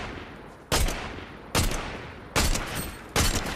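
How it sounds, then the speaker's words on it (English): Four loud, sharp bursts of video-game gunfire from Fortnite, spaced roughly evenly about a second apart, each leaving a short decaying tail over a steady background hum. "But I do hear the shooting."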